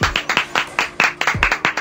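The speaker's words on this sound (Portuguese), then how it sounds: "Aplausos." Applause in the form of a quick, regular run of sharp individual claps, a dozen or so close and loud within under two seconds.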